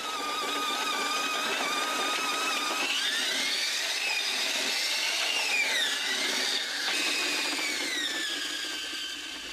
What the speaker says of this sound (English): The miners are constantly drilling new holes for explosives, pushing their tunnel deeper and deeper into the ground.